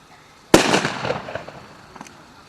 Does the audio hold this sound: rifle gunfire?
yes